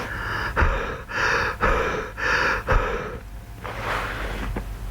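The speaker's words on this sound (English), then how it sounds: "I'm going to put this on and do my heavy breathing act." Heavy, rasping breaths sound from inside a motorcycle helmet with the visor down and a fog shield fitted: four loud, muffled gasping cycles in a steady rhythm, then a softer, breathier exhale, all close.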